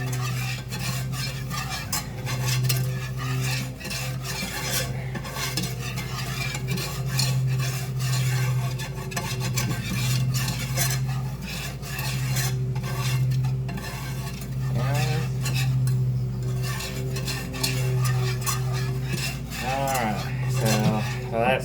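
A flour roux for mac and cheese stirred steadily in a pan, a continuous close scraping and swishing of utensil against metal over a faint sizzle and a constant low hum.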